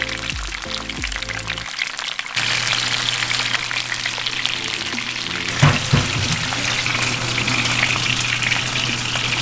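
Wahoo fish searing in a hot pan, a steady loud sizzle and crackle that starts after a brief quieter moment and continues without pause, with no talk.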